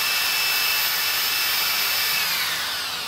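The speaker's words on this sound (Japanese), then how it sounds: "これ本物のハンマードリルですので" A real hammer drill, run by remote master-slave control, bores into a soft material with a loud, continuous, hissing whine that holds steady throughout with no voices.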